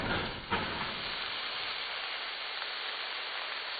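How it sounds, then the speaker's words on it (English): Pork and beef mixture browning in a pan over medium heat gives a steady, soft broadband sizzle and hiss, fairly faint and continuous, with one brief tap near the start and no talking. "In a pan over medium heat, I'm going to brown the pork and beef mixture."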